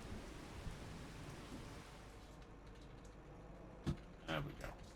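Steady rain falls across a farm field in Farming Simulator on the Kinlaig map. The rain makes a constant, even hiss, and a few short knocks and thuds come near the end.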